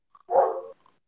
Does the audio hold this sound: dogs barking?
yes